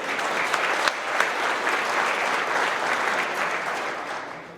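Dense, sustained clapping from a large crowd at a trucking company's monthly employee awards celebration, with a few whoops mixed in, fading slightly at the end.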